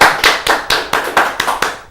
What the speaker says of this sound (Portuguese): Então, palmas a você.